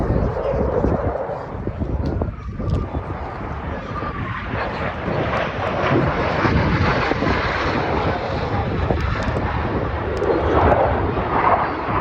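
Military aircraft passing overhead at an air show, a loud, continuous broadband roar of jet engine noise that swells slightly toward the end.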